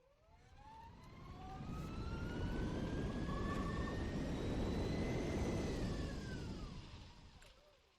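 BMW motorcycles ridden in a virtual ride app give off a smooth engine drone whose pitch climbs and glides as it swells, holds for several seconds and fades away, alone and fairly quiet.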